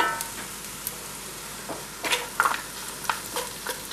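Velvet crabs heat in a hot pan, giving a soft, steady sizzle with scattered crackles and a few scraping stirs, fairly quiet and without any talk.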